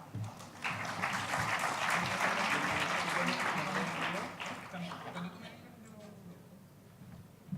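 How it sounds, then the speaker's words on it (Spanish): An audience at a talk on sustainable development goals applauds a new presenter, with dense steady clapping for about four seconds before it thins and tapers off, with faint voices underneath. "un fuerte aplauso para nuestro nuevo expositor"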